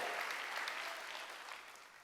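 Church congregation applauding during a Sunday worship service, a steady wash of many hands clapping that holds at an even level and fades slightly toward the end, with no speech over it.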